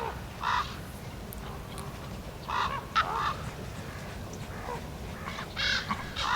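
A common raven calls with several hoarse croaks spaced over a few seconds, mid-distance outdoors where white-tailed eagles gather at a feeding site, above a steady low background rumble.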